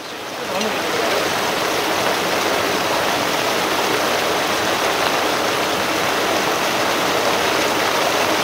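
Muddy water gushes out of a drinking-water tank during a washout at the Bhalu Khola source, a loud, steady broadband rush that fills the whole stretch without pause.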